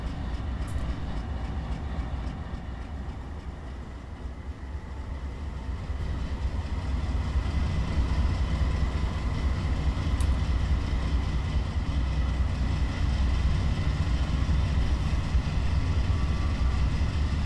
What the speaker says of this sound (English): You can hear the engine bork up a little bit. Get a little bit louder. Notch 1, it stays that idle RPM.